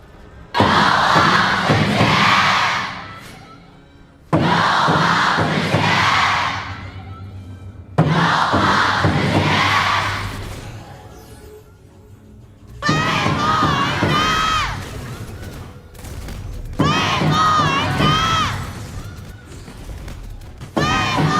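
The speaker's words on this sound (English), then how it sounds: "they're going to be cheering loud for KUAISHOU Gaming, but even louder for all gamers" A stadium crowd at the 2025 KPL (King of Pro League) Grand Finals esports knockout stage roars in loud, sustained cheering and shouting. It comes in several strong waves with brief dips between them.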